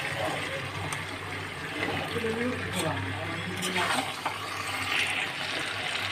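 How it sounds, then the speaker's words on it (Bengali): Water poured into a spiced masala in a cooking pot makes a gushing, splashing liquid sound at close range while someone talks over it. "এবার ভালো করে মিশিয়ে নিই মশলাটাকে তারপরে দিয়ে দেবো জল"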